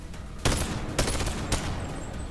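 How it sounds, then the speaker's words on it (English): A big gun fires in the VR video game Bonelab: three loud, sharp blasts about half a second apart, each with a ringing tail. "Let me shoot him with the big gun,"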